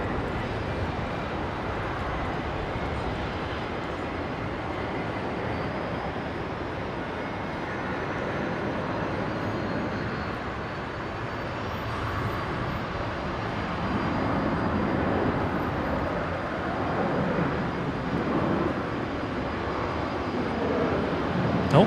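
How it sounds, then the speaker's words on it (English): A Qantas jet bound for Perth rolls for takeoff on runway 19 left at Brisbane, a continuous broadband engine rumble that builds gradually in loudness, heard from a distance with no talk. "Next departure, Qantas 937. Heading off to Perth. Here it is, on 19 left."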